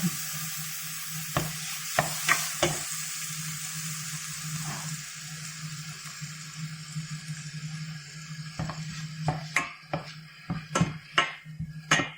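Tomatoes sizzle and get stirred in a pan of pinakbet made with leftover lechon kawali, a steady close frying hiss broken by repeated sharp scraping clicks of the spoon, clustered early and again toward the end.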